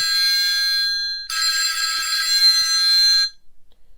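An OK3 smartwatch's find-watch alert rings out loud and shrill, with a brief electronic burst followed by a longer continuous ringing tone before it cuts off. No talking.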